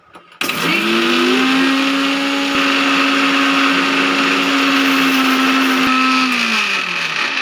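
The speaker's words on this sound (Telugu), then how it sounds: "ఇది తీసుకెళ్ళి మిక్సీ దగ్గర ఇచ్చేసి మిక్సీ కొట్టేయాలి. మిక్సీ ఆన్ చేసి" A kitchen mixer grinder (mixie) motor whirs steadily and loudly for about seven seconds, spinning up at the start and winding down at the end, with no voices over it.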